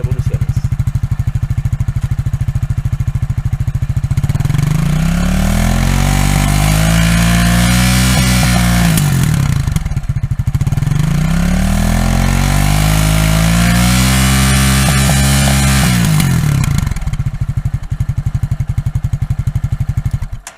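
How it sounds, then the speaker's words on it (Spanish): A Vento Thriller motorcycle engine idles, then revs up hard to a high, sustained whine twice, each rise falling back to a loping idle; loud and close, no talking. "acaban de escuchar, amigos, el sonido a altas revoluciones"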